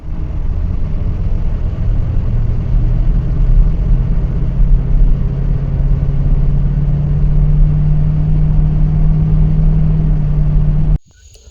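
A truck engine pulls loudly up a driveway under steady throttle, a close, continuous low rumble that holds for about ten seconds and then cuts off abruptly.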